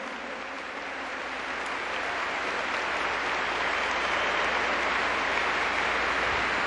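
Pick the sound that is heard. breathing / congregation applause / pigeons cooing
congregation applause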